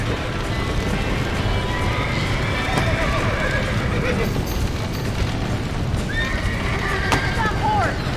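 A horse in the Western game Red Dead Redemption whinnies a few times amid steady galloping hoofbeats, with a busy background of game noise and voices talking over it.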